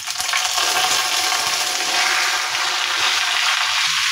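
Mango pieces drop into hot oil with dried chillies and panch phoron for a mango pickle, setting off a loud, steady, crackling sizzle that fills the whole stretch with no voices.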